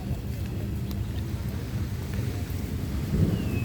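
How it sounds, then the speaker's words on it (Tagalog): Steady rain falling, a continuous dense wash of noise with low rumbling underneath, fairly loud and constant throughout. "Dahil nga umuulan."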